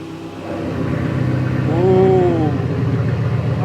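A Jeep Grand Cherokee WJ engine on its stock exhaust gives a steady low rumble that swells in a brief rev near the middle and then settles, heard close up with no talking.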